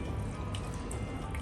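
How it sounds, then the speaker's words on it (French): A flour-and-water mixture is poured into a pot of soup while it is stirred, giving a steady, close wet sloshing and dripping that runs without pause. "Vous versez votre mélange farine et eau en mélangeant votre soupe."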